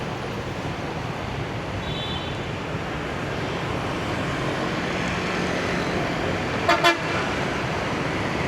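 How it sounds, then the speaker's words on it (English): A small VinFast car sounds a surprisingly loud, deep double honk on a city-centre street in Da Nang, two quick blasts rising above steady traffic and street noise. "This small little VinFast car had such a huge honk."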